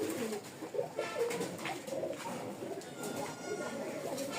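Pigeons coo in soft, repeated low bursts at close range, with steady background murmur and faint human voices underneath throughout.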